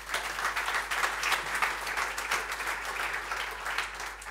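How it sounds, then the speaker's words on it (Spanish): Steady audience applause fills a literary event about Athletic Bilbao and football writing, dense and continuous clapping from a crowd, moderately loud throughout with no voices on top. "para el que pido otro aplauso."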